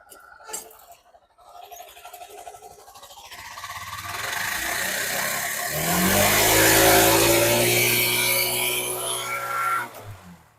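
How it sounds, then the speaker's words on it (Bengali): A used Bajaj CNG auto-rickshaw engine sputters to life, then revs up with a rising, buzzing drone that holds loudly before dropping away near the end. "ইঞ্জিনটা দেখি একটু সাউন্ড কেমন"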